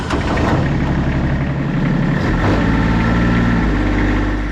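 A DIY wood splitter's small engine runs at a steady mid-range idle below full revs, a close, throbbing drone whose pitch shifts slightly a couple of times.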